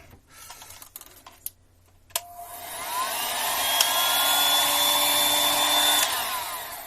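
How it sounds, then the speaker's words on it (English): A heat gun powers on and blows hot air onto a Surface Pro 6 (model 1796) screen, starting after a few clicks and settling into a loud, steady whining roar, close by, before dropping slightly. "now using a heat gun, my particular favourite technique"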